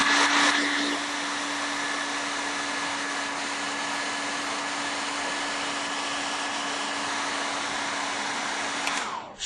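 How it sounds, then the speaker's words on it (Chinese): Hair dryer blowing wet paint dry on a petal during a gongbi Buddhist figure painting lesson, a loud steady whirring hum running continuously from start to finish with no talk. "把它吹干。"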